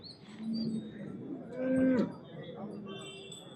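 A cow gives a drawn-out low moo at a large cattle market in Sardar Nagar, heard fairly near amid crowd murmur, with birds chirping in the background.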